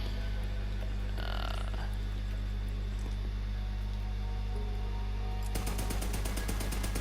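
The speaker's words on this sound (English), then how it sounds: "every full shot you fire doesn't consume any ammo, and it deals bonus incendiary damage" Moze fires Cloud of Lead incendiary shots in Borderlands 3, a dense, loud, continuous rattle of gunfire with a deep rumble underneath, switching to sharper rapid crackling bursts near the end.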